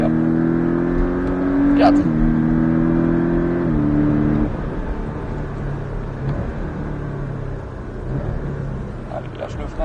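A Porsche Cayman S engine revs and accelerates through stepped gear changes on a driving course, a loud, close, rising drone that drops off midway to a lower rumble while an instructor speaks briefly.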